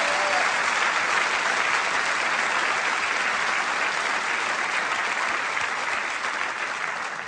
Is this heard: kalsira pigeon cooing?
no